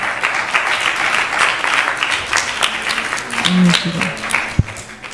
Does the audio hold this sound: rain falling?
no